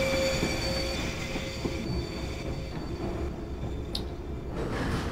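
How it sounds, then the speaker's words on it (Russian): Model 81-717.5P subway train in the Garry's Mod Metrostroi simulator braking as it approaches a station, with a steady rolling rumble and a long high metallic squeal from the wheels, close and continuous. "давайте будем притормаживать, потому что уже впереди станция должна быть"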